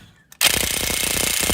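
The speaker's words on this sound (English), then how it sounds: "I'm going to use an impact to get these off" After a brief quiet moment, a pneumatic impact wrench bursts into a loud, rapid hammering rattle on a transmission nut of an A604 transmission, sustained and close for over a second.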